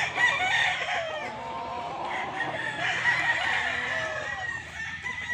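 Gamefowl rooster at a game farm crowing, a drawn-out strident call from close by that repeats, fairly faint overall with other fowl in the background.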